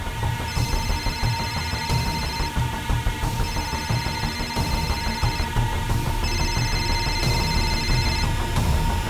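A telephone rings in repeated bursts of trilling bells with short pauses between them, steady and fairly loud, over a busy background.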